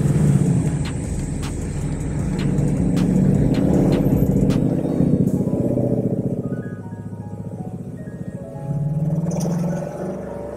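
A 2015-2019 Ford Mustang GT with an SCT BDX tuner loaded turns over and settles into a loud, steady V8 idle with a deep rumble close by, with no talk over it.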